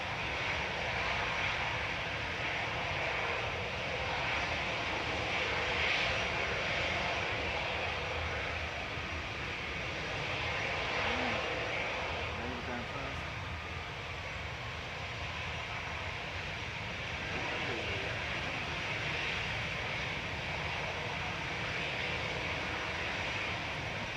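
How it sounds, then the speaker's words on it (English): An EasyJet Airbus A320 idles at Manchester Airport, its engines giving a continuous loud roar and whine that holds steady for the whole stretch with no voices. "when is this noisy EasyJet going?"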